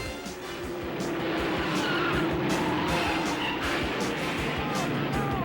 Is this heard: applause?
no